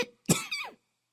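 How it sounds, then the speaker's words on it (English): A woman coughs two or three times, close and fairly loud, the second burst strongest and a short final cough trailing after a pause, with no talk around it. "she coughed 2 or 3 times in order to put the little prince in the wrong"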